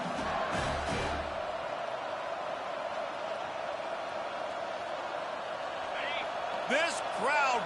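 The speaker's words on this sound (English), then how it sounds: "This crowd busting the decibel meter and trying to will a fourth down stop." A large football stadium crowd roars in a loud, steady wall of cheering during a fourth-down play, with an announcer talking over it.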